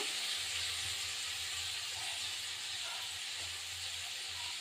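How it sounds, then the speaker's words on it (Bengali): Onions fry in oil with a dense, continuous hiss and sizzle, fairly loud and steady throughout, with no voices. "এবার পেঁয়াজটা ভাজা ভাজা, একটু তেল লাগবে,"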